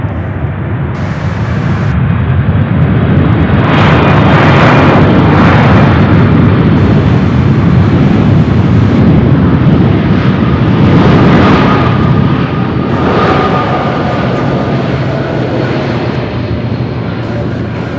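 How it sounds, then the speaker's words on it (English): A jet airplane takes off at Louisville International Airport, a loud, sustained rumbling roar that swells and holds, heard from nearby for the whole stretch. "Amazing how all these different types of aircraft make their own kind of noise."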